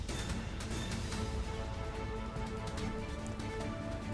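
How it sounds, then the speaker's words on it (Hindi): Steady rain falls amid strong winds during a weather change in Ghaziabad, a continuous dense wash of hiss and patter holding at an even level throughout without pause. "तेज हवाओं के साथ शुरू हो गई है बारिश"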